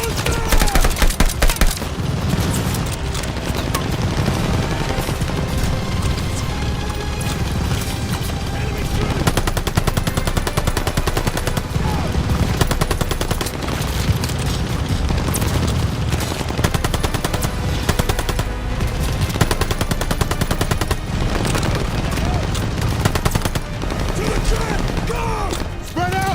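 Dense, continuous machine gun bursts and overlapping gunfire in a Call of Duty Vanguard battle, loud and sustained throughout, with shouted squad voices mixed into the chaos.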